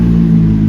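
A 2020 Toyota RAV4 with a 2.5L A25A-FKS four-cylinder engine and a blown-out muffler runs at a steady idle, giving off a loud, continuous low rumble with a strong droning hum.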